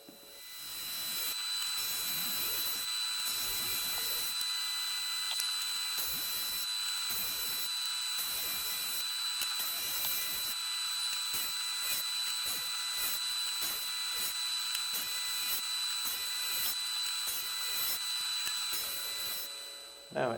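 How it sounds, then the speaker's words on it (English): An end grain cutting board is fed through a drum sander to flatten it, giving a steady, even whir with faint pulsing texture that runs unbroken for about twenty seconds before stopping. "I'm just running it through the drum sander to get it nice and clean"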